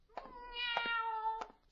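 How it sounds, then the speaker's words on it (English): A cat meows in a drawn-out, wavering cry with a short chirp before it and another after, clear and fairly close in a quiet setting. "Are the black cats out already?"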